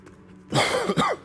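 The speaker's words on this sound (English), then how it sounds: "Excuse me for the cough." A single short, close cough, harsh and throaty, following a brief moment of quiet.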